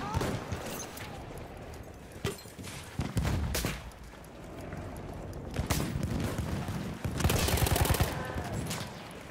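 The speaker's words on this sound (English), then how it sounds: "Machine gun!" Machine gun fire in the World War I shooter Battlefield 1, with bursts and sharp shots cutting through a busy battlefield mix while voices shout over it.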